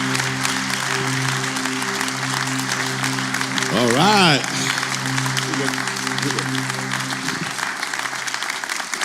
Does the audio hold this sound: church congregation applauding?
yes